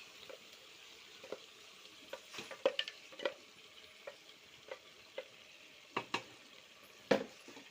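Ground masala paste fries in oil for a chicken curry, giving a faint, steady sizzle broken by intermittent scraping stirs and clicks, with no talking.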